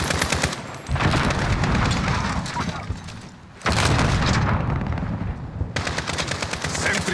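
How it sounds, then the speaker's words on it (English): An automated sentry gun in a Modern Warfare game hammers out long, loud bursts of rapid fire with booming impacts, pausing briefly between volleys. "Got the sentry gun on me."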